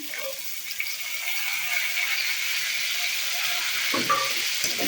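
Potatoes and onions go into a pan with already-fried bitter gourd, giving a steady close hiss of sizzling oil with a brief clatter near the end.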